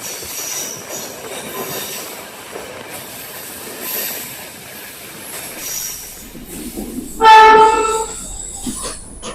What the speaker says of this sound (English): this train is now returning to Annaba